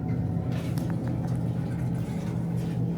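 A car rolls into an underground basement parking garage in Ontario, a steady low engine rumble and tire hum filling the enclosed space, continuous and fairly close with no talking.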